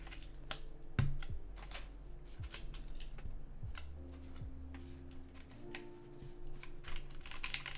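Keys clacking on a mechanical numpad keyboard, irregular taps and light clicks with occasional deeper thocks, moderately close but fairly quiet, no speech.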